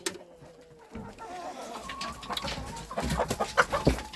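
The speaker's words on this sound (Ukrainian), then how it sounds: "Так, кури!" Several hens cluck and murmur nearby in short irregular bursts, growing busier and louder toward the end, with no talking.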